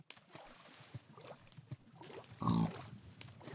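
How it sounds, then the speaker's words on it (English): Pigs in Minecraft grunt and oink, a few short snorts followed by one louder, longer oink, heard close amid light background noise. "Hey, there's pigs!"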